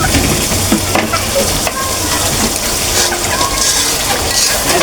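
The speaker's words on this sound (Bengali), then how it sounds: "মশলাটাকে সুন্দর করে কষাবো" Spice paste with powdered milk and salt sizzles and is stirred in a pan, a constant loud frying hiss with scraping of the spoon running throughout, no voices.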